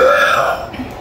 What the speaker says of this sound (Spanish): Qué gran eructo, man.